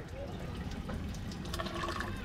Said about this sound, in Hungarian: ez a platán forrás. És ahol meg is töltöm a kulacsomat.